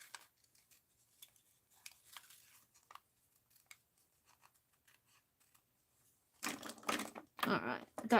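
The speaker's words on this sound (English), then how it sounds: "let's cut her neckline out" Paper doll's neckline being cut out with scissors: a quiet stretch of faint snips gives way to a loud, close burst of crisp cutting and rustling near the end.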